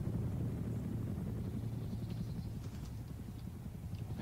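Helicopters fly in the video game ARMA 2 DayZ, giving a continuous low, pulsing rotor thrum that holds steady at moderate distance with no voices over it.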